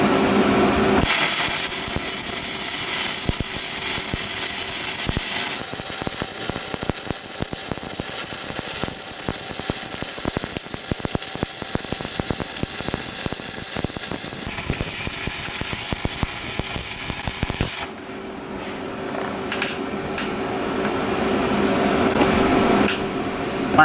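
Arc welding with a 7016 electrode rod at 125 amps, a loud, steady crackling sizzle held close for about eighteen seconds before it cuts off into quieter room noise.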